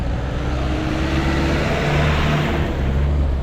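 Night street traffic in Nairobi after rain showers: a steady, dense rumble of car engines with one vehicle revving and accelerating nearby, continuous road noise with no talk.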